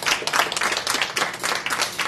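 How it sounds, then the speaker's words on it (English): Audience applause for Ricky Richards at a showcase panel, a short burst of fairly close, brisk clapping from a modest crowd, uneven and lively throughout. "Let's give Ricky Richards a big round of applause"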